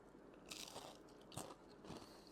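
Crunchy fried tostones dipped in ketchup being bitten and chewed, three sharp crisp crunches spaced apart, close and fairly quiet with no talk.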